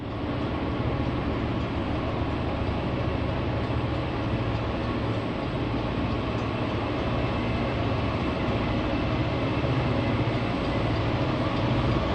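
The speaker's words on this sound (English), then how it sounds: "AABA F7s take a freight west" A set of four EMD F7 diesel locomotives hauls a westbound freight over the double-track Long Ravine Trestle east of Colfax, a steady, continuous rumble and rolling rail noise throughout.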